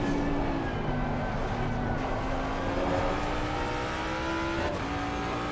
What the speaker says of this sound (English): We're pulling away very, very nicely from the cars behind.